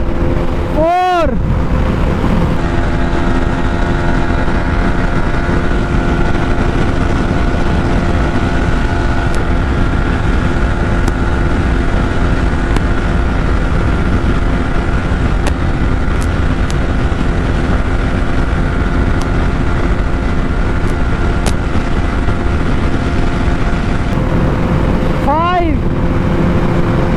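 A KTM Duke 200 and a Yamaha MT-15 motorcycle race at top speed in a drag race, a loud, steady high-revving drone buffeted by heavy wind roar, with a sharp whoosh of a passing vehicle at the start and end.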